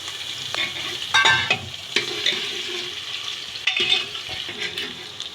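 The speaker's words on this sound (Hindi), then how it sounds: "देखिए, प्याज जब तक फ्राई हो रहेंगे, इनको हल्का गोल्डन ब्राउन करना है" Chopped onion, cloves and black pepper frying in hot oil, a close crackling sizzle with several clattering stirs and spoon knocks against the pan, no voices.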